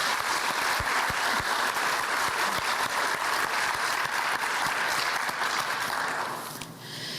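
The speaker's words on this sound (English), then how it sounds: "So maybe just a round of applause for Shirley also." Steady applause from a sizable crowd at a local history awards event, dense clapping throughout that starts to thin and fade near the end.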